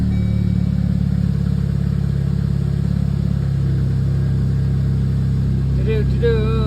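A car engine runs after a fresh oil change, a steady low rumble held close and loud for several seconds, with a brief voice near the end.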